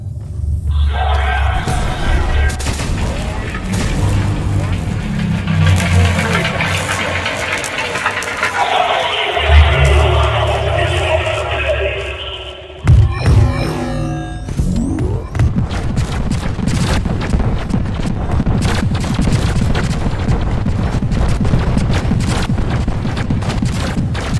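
Gunfire from the Scorching Tide overclock in the video game Deep Rock Galactic, a dense continuous stream of hissing, crackling blasts, broken by a burst of sharp booms midway, then a rough roaring spray.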